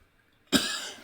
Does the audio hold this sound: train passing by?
no